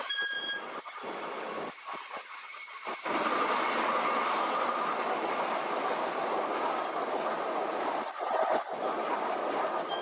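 A train rolls past on a Mumbai railway platform with a loud, continuous rumble and wheel noise, preceded by a few seconds of quieter station ambience and brief thuds.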